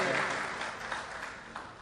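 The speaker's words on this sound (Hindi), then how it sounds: "यार हमीद भाई, सारे लोग मिलकर जरा तालियां बजा दें" An audience at a mushaira poetry recital gives a short burst of applause, dense at first and then thinning out over about two seconds.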